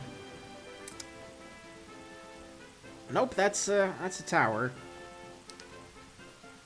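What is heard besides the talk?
heavy rain in the video game Pokemon White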